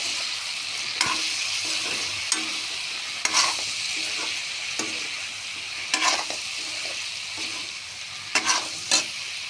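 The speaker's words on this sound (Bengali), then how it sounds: "কাশ্মীরি লঙ্কার গুঁড়ো, দিয়ে নাড়াচাড়া করতে থাকবো।" Kashmiri chili powder being stirred and fried in a pan with potato, raw banana and paneer, a constant bright sizzle broken by intermittent scrapes and knocks of a spatula, near and alone.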